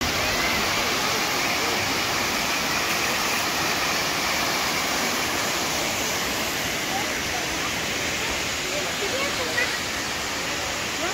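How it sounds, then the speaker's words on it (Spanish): Steady, dense roar of a tall waterfall at the Mérida zoo in Venezuela, constant broadband rushing water filling the whole clip without pause. "La cascada viene desde muy, muy, muy arriba."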